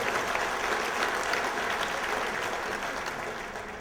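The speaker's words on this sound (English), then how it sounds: "please give yourselves a round of applause" Banquet crowd of police chiefs applauding, a dense continuous wash of clapping at moderate distance that holds steady and eases slightly toward the end.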